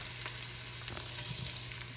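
Onion frying in hot cooking oil, a dense continuous sizzle and crackle close up, with a few faint stirring taps beneath and no voices.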